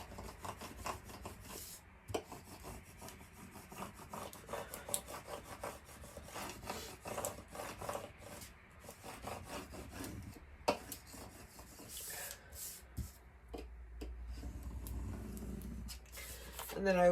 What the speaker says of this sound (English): So I'm going to rub the design down onto the transfer tape properly.